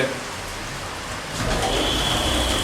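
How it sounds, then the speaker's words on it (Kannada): Moderate rain patters across open countryside under dark clouds ahead of a thunderstorm, a continuous wash that swells slightly louder halfway through, with a thin high tone entering near the end. "ಈಗ ಮಳೆ ನೋಡ್ಬೋದು"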